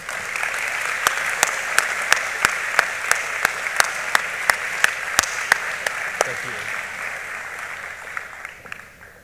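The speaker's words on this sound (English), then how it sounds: "Please give them a big round of applause." A crowd at a high school senior awards ceremony claps steadily, a dense wash of applause with sharper individual claps standing out, tapering off toward the end.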